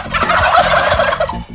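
Many turkeys gobble at once in a farm flock of hens and toms, a dense, loud burst of rattling, bubbling calls close by.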